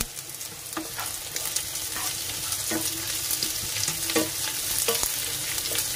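Chopped onion and green chillies fry in a pan for masala dosa filling, a dense close sizzle broken by occasional clicks and scrapes of stirring, with no talking.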